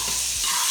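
Aromatics hitting vegetable oil in a pan give a brief, steady, hissing sizzle, broad and close, heard alone without talk.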